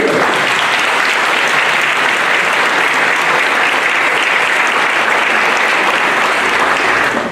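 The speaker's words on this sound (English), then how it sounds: "may we have applause to all those family members representing World War II" A ceremony crowd at a veterans memorial building applauds the family members of Chinese American World War II veterans, loud, sustained and dense clapping that holds steady before tapering off at the end.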